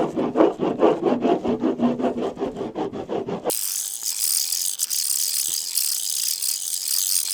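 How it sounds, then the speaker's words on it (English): Wax being rubbed onto a surfboard in light, quick strokes: a steady run of close, scratchy rasps in an even rhythm, then a hissy, washed-out stretch of fainter rubbing. "You're going to wax the board in a bunch of light strokes"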